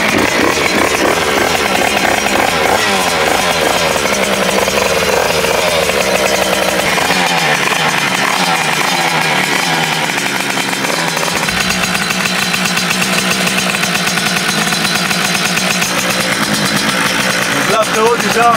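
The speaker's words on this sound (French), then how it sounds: "Là frérot déjà, tu peux capter que la moto fait beaucoup de bruit." Yamaha DT 100cc two-stroke dirt bike running close by, a loud, raspy, buzzing engine that revs up and down with sharp throttle blips and never drops to silence.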